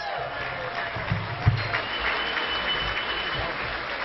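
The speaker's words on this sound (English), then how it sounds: "Let's give him a big round of applause." An audience at a state Democratic Party convention gives a steady round of applause for the executive director, broad continuous clapping with a few louder claps and faint crowd murmur underneath.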